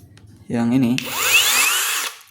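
Dong Cheng cordless drill driving a screw in slow mode: a short low motor whir spins up, then a brighter rising whine runs steadily for about a second before cutting off, close and alone.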